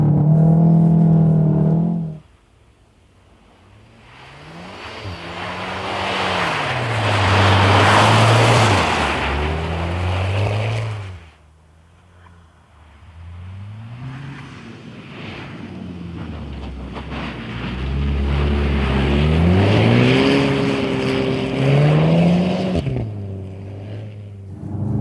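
A Volkswagen Golf R engine revs and surges on a low-grip course, rising and falling in loud swells with gear changes and short lulls, mixed with wind rush over the microphone.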